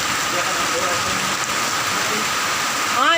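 Steady heavy rain hisses loudly throughout, a dense wash of noise with faint speech-like murmurs underneath.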